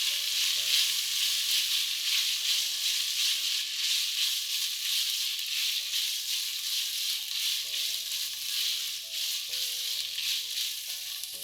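Soaked, lightly boiled white chickpeas sizzle in a hot pan while cooking for vegetable thukpa noodle soup, a continuous hiss of frying that stays close and steady throughout with no talking.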